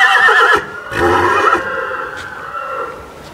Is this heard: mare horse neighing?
yes